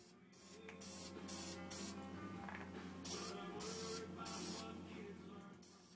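Spray paint hisses onto a white PVC tube in bursts of several seconds each, close up with a low background hum and no talk.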